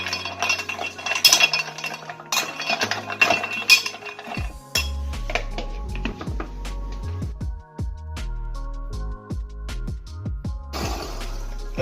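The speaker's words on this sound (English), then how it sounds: "I'm just gonna use a spoon to stir up the bottom of the" A spoon scrapes and clinks against ice in a blender jar while watermelon slushies are being made, with bright irregular clinks early on, then a steady churning blend of ice and liquid, close and fairly loud, no voices.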